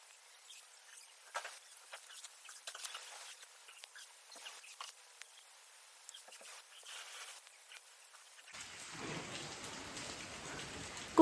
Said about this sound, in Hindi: बारिश फिर से लग पड़ी इतनी तेज